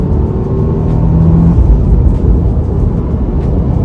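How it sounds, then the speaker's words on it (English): A 2023 Subaru WRX Premium pulls hard in second gear, a loud, steady engine drone with rising rev pitch and road and wind noise heard from inside the cabin. "We could try a second gear pull."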